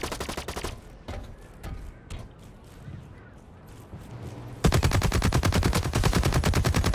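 Gunfire in the first-person shooter Blacklight Retribution: scattered single shots, then a loud sustained burst of rapid automatic fire that keeps going to the end.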